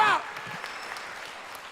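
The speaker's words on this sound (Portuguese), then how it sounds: "dá uma salva de palmas agora" A church congregation applauding, with scattered, fairly faint clapping that continues after a brief voice at the very start.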